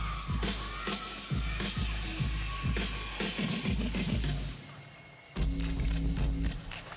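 A telephone ring is worked into upbeat floor routine music at a women's gymnastics championship, with repeated bell-like trills over a steady thumping beat, and the music continues loudly throughout.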